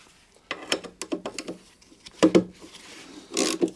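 A socket wrench turning a bolt on a lawn mower blade, with short rasping ratchet clicks and scraping strokes in bursts, close and moderately loud, no speech.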